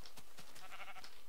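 Minecraft sheep bleating in short wavering cries, a couple of faint calls spread across a quiet stretch of gameplay.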